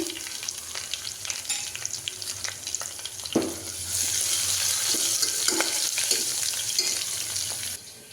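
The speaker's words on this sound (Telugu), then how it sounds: "అల్లం వెల్లుల్లి పేస్ట్ పచ్చివాసన పోయిన వేయించుకోవాలి" Loud crackling sizzle as ginger garlic paste fries in a hot pan, jumping to a strong spitting hiss midway, with occasional stirring clicks.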